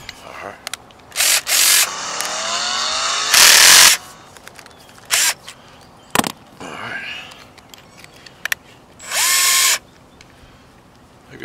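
DeWalt power drill boring a hole into a roof for a solar panel mount, several loud whirring bursts of a few seconds each with pauses and brief knocks between, close by.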